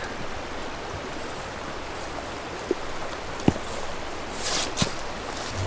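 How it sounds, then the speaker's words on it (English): Cold water from a large hillside seep runs steadily into a river, a continuous rushing wash with a few brief knocks and splashes, no voices. "This whole hill is another one of those big seeps just dumping cold water straight into the river."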